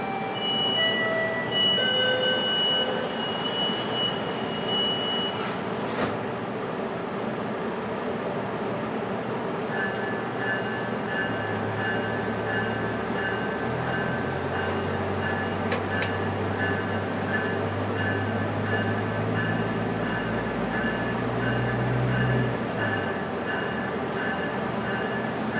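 UP Express train from Pearson Airport toward downtown Toronto rolling along rails, a steady interior rumble and hum with a low rising drone in the middle as the carriage gets underway, constant throughout with faint voices.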